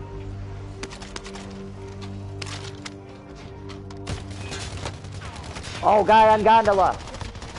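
Gunfire in a video game crackles as scattered sharp shots, with a voice speaking briefly partway through and a louder burst of game noise near the end.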